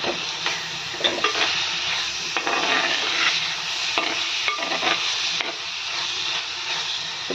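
Tomato pieces added to onions frying in a pan, a close hissing sizzle with repeated scraping and knocking strokes of a stirring spoon, no talk.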